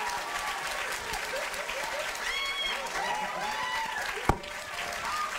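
A festival audience claps loudly and continuously for an actor's introduction, a dense sustained round of applause with scattered cheers and one sharp bump near the end.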